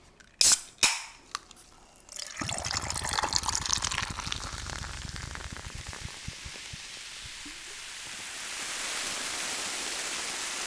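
A can snaps open with a sharp crack, then carbonated fizz hisses and crackles steadily, fading into a soft bubbling wash.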